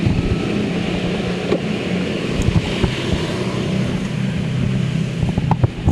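Riding inside a car in Surabaya with friends: a steady, fairly loud road rumble with wind noise fills the cabin throughout, with a few small knocks and no talking.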